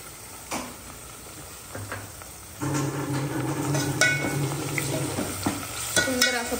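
Tomatoes fried and stirred in a pan for paneer dum biryani: a steady sizzle that grows louder partway through, with scraping stirs and light utensil clinks, close up and with no talk.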